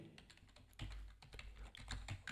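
Fingers tapping rapidly on a computer keyboard, a quick, close, steady run of clicks with no talking.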